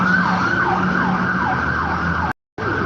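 Emergency vehicle siren wailing in a repeating rising and falling cycle, loud and close, with road traffic noise underneath, cut off abruptly near the end before resuming briefly.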